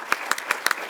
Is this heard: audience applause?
yes